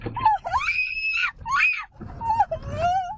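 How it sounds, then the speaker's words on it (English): A woman screams loudly in short, strained bursts from a car's passenger seat during a road rage incident, close by, with brief gaps between cries. "The victim's wife screaming from the passenger seat."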